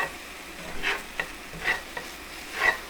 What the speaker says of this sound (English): I've just been stirring our onions and garlic.